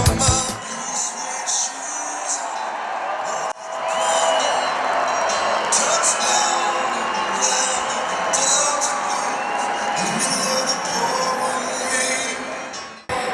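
A large outdoor crowd at a Donald Trump campaign rally in Millington, Tennessee cheers and roars steadily and loudly, with a continuous wash of voices and whistles.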